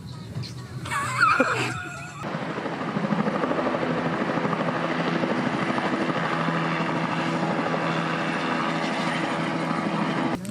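A helicopter's steady, loud rotor drone and engine roar sits close and fills most of the stretch, coming in sharply after a brief quieter opening.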